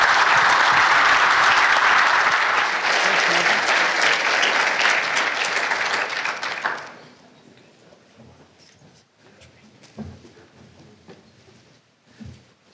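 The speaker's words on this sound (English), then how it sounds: "rancher panel, a big round of applause." A hall audience at an agricultural research showcase applauds a farmer and rancher panel, loud, full clapping for about six seconds before fading to scattered claps, shuffling and faint murmurs.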